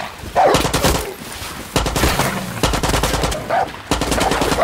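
Gunfire in Far Cry 6 gameplay, dense bursts of automatic weapon shots crackling in several loud clusters over a few seconds, up close and without speech.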